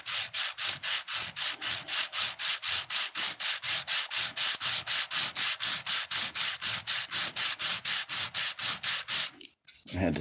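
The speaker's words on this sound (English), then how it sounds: "I had to switch back over to my little sliver of better actual sandpaper" Sandpaper rubs back and forth by hand on wood in quick regular strokes, a close, loud, rhythmic scratching that keeps a steady pace and stops just before the end.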